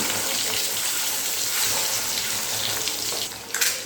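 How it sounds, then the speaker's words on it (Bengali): Eggs coated in salt and turmeric fry in hot oil in a pan, giving a steady, moderately loud hiss and sizzle that runs the whole time with a few sharper crackles near the end. "ওই তেলের মতোই ভেজে নেব আগে থেকে নুন হলুদে মাখিয়ে রাখা ডিম"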